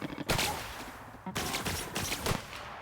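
Gunfire in the video game The Outer Worlds comes in several sharp bursts of shots spread across a few seconds, with no talk over them.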